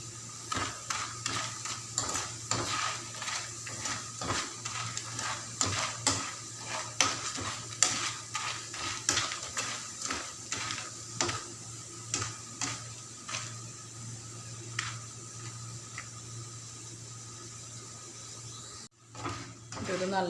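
Kerala-style banana chips fry bakery-style in hot oil with salt, a steady sizzle under a quick, regular series of scraping stirs that slow and fade near the end.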